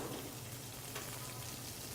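Steady crackling sizzle of onions frying in hot fat for a tomato espagnole sauce, constant and close, with no voices over it.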